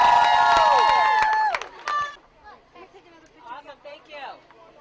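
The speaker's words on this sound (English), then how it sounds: "the crowd responding to the public address announcing of Jeff Lake" A football game crowd roars in response to a public address announcement, a loud sustained swell of cheering and shouting for about a second and a half that quickly fades into scattered crowd chatter and distant voices.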